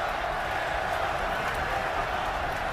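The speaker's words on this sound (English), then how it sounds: "The crowd, of course, a huge Russian contingent, Gus, chanting the Fedor name" A huge crowd with a large Russian contingent at an MMA fight between Fedor and Antonio 'Bigfoot' Silva chants Fedor's name. The roar is loud and continuous, a dense wash of voices with no pauses.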